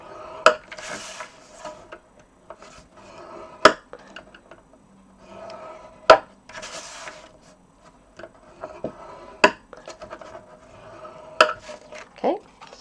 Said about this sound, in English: I'm going to start by scoring the Bermuda Bay card at 1/2 inch and 1 inch, and I'm going to do that on all 4 sides.